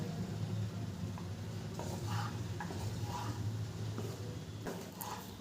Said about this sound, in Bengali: একটু হালকা হাতে নেড়ে চেড়ে দেবো